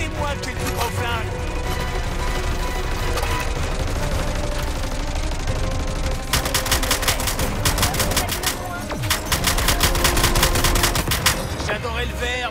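Gunfire in the video game Suicide Squad: Kill the Justice League, loud and continuous, with rapid automatic bursts layered over dense game noise and music throughout.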